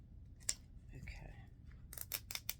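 Scissors snip through Barbie doll packaging in a few quick, close cuts near the end, following softer handling noises and faint rustling.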